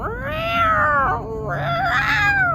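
A person's voice imitates a cat yowling with two long, wavering wails that rise and fall. The voice is close and loud and fills the whole moment without other sounds.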